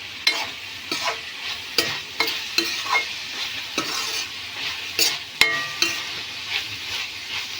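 A prawn curry with tomato and chili powder sizzles steadily in a pan while a utensil scrapes and stirs it in regular strokes, close and fairly loud.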